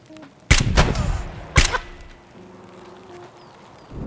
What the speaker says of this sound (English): He's shooting us!